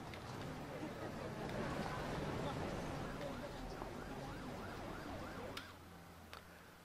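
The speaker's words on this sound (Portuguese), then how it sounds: "Mandar uma ambulância maior." An ambulance siren in the Emergency 4 video game, played with a São Paulo mod, wails in rising and falling sweeps at modest volume beneath a constant background hum, with a voice talking over it.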